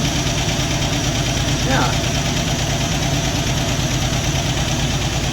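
A 1964 Dodge D300 Sweptline Crew Cab engine idles steadily and loudly up close, a continuous rumble with a brief voice over it.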